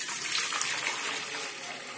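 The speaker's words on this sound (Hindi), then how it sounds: "इसमें थोड़ा सा पानी डाल दें," Hot water poured into a pot or idli stand for steaming makki dhokla in a home kitchen, a steady close splashing gush running throughout without pause.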